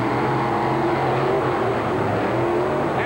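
Monster truck engines of the Whiskey Business Chevrolet and Bigfoot Ford racing in the Houston Astrodome, a continuous loud rumbling roar with rising and falling revs, heard from a distance through arena echo.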